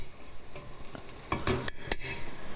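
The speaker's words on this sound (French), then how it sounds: "Et on laisse toujours mijoter un peu" Garlic and onion simmer with herbs in a pan, making a soft, quiet background hiss broken by several sharp utensil clicks and scrapes of stirring.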